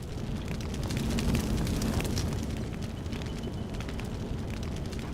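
A fire burning in the game Deus Ex: Human Revolution, a steady roaring, crackling rumble that holds loud and even for several seconds with no one speaking.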